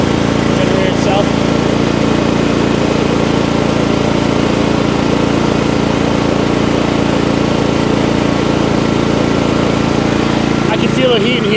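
A Champion 8750 tri-fuel generator running inside a shed enclosure, a loud, close, steady engine drone with a constant low hum that continues unchanged from start to finish.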